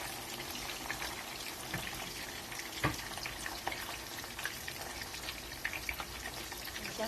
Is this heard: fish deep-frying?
yes